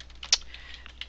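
Computer keyboard being typed on to enter patient case details in a medical office, with quick, close, light key clicks, one sharper tap, and no talk.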